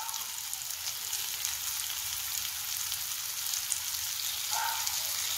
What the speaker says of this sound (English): Let it fry for 2 minutes.